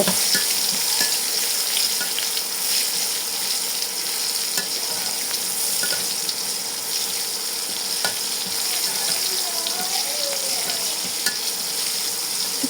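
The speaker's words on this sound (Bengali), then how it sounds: "তারপর দিয়ে দেব পেঁয়াজ এটাকে ভালোভাবে ভেজে নেব" Onions fry in oil with panch phoron for a bottle gourd and hilsa fish head dish, a constant close sizzle with regular stirring scrapes and taps throughout, no voices.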